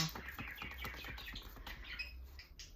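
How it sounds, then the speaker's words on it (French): Pet birds chirping indoors, a soft, fairly faint run of quick high chirps and tweets with light pattering, no voices. "J'ai mes oiseaux. Ils font trop rigoler."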